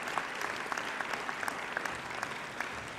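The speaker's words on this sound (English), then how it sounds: "Please join me in another round of applause for all of our award winners." An audience at a 2021 business and hospitality graduation ceremony in Adelaide applauds award winners, producing a dense, even wash of clapping that holds at a steady level for the whole stretch with scattered sharper individual claps.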